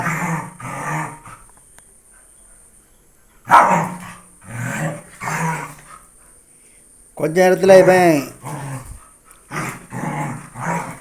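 Two dogs playing in the evening trade a burst of growls and rough barks midway through, while someone talks in Tamil before and after.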